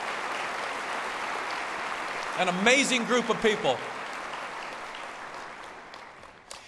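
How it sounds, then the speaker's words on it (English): Sustained applause from a civic crowd at a State of the City address for the council, city staff and community volunteers. Someone speaks briefly over the steady clapping partway through, and the applause fades slowly afterward. "let's give our council, our city staff, and our community volunteers a round of applause"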